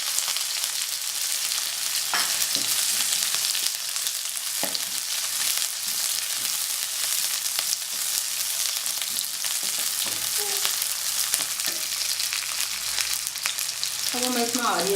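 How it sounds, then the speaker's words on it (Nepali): Onions frying in oil in a pan for Nepali gundruk curry make a loud, constant close sizzle, with occasional light scrapes and taps of a spoon. "अब म यसमै प्याज राख्छु।"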